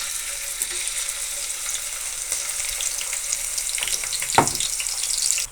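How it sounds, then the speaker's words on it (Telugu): Onions frying in hot oil in a kadai make a steady, close sizzle and crackle throughout, with one louder burst of spitting near the end and no voices. "ఇదిగోండి ఆయిల్ అయితే హీట్ అయింది. మనం ఆనియన్స్ వేసుకుందాం"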